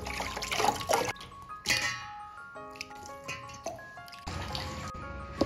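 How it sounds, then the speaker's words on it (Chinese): Cooked beef brisket being rinsed in clean water, with splashing, dripping and trickling liquid in short uneven bursts, fairly close and moderately quiet, no talk. "牛腩煮熟了之后呢，把它捞出来放到清水里面去，"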